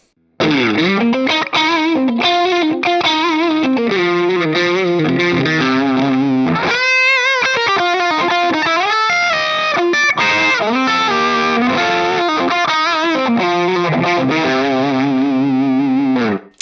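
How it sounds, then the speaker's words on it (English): Overdriven electric guitar through a Fractal Audio model of the Bb Preamp overdrive at stock settings, into a clean amp, plays a continuous riff with smooth, saturated distortion and a brief pause midway, loud and close throughout. "It is designed as essentially a smooth-sounding overdrive to run into a clean amp"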